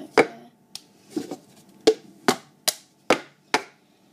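Sharp claps and hard plastic cup slaps and taps ring out one at a time in a steady cup-song rhythm, about eight crisp, close hits with short silences between them.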